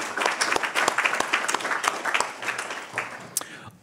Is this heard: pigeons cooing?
no